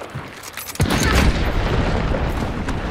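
Dynamite blast in Hunt: Showdown, a sudden loud boom near the one-second mark followed by a long dense rumble of debris and echo that fills the rest of the moment.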